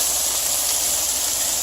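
Lemon juice hitting a hot pan of cooked-down sauteed spinach gives off a loud, steady hiss of steam that holds evenly throughout with no talking.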